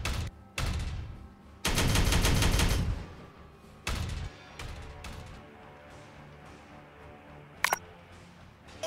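Bursts of gunfire in the Warhammer 40K Regicide video game: several loud rattling volleys of varying length separated by quieter gaps, with a sharp single crack near the end.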